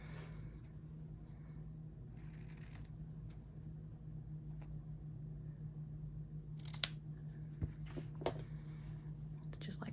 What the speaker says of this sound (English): So I'm going to trim those down.